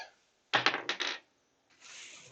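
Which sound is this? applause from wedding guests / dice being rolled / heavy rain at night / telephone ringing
dice being rolled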